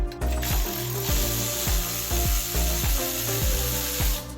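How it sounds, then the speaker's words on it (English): High-speed ratchet spins out the E12 bolt on a BMW N55 belt tensioner, a loud close rhythmic ratcheting whir repeating about every half second. "to speed things up I used a high-speed ratchet after breaking it loose"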